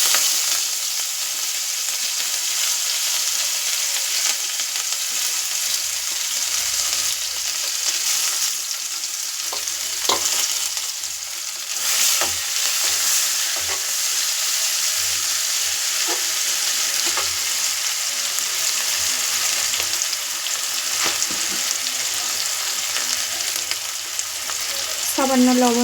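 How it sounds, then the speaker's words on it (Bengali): Sliced onions fry in hot oil in a pan after potatoes, with a dense continuous sizzle and occasional scrapes of a spatula stirring, steady and close throughout with no speech. "লবণটা দিলে তাড়াতাড়ি পেঁয়াজটা ভাজা হয়, সময়টা কম লাগে।"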